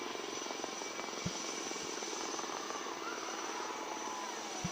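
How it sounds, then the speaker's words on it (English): Indian Navy Chetak and ALH Mark 3 helicopters fly a search-and-rescue demonstration at a Navy Day display in Visakhapatnam, a steady loud rotor and engine roar filling the scene throughout, with faint crowd or announcer sound beneath. "the indigenous helicopters Chetak and an ALH helicopter to demonstrate the search and rescue demo"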